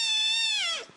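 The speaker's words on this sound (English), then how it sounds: "And is he just meowing?" A kitten in a played internet video gives one drawn-out, high, tonal meow lasting about a second, steady at first and then sliding down in pitch as it fades away.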